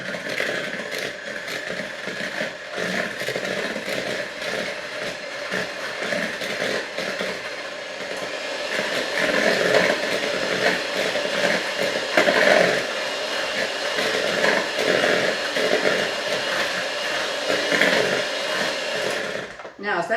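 Electric hand mixer beating wet molasses pudding ingredients with egg in a bowl, a continuous whirring motor drone with scraping against the bowl, steady and fairly loud throughout.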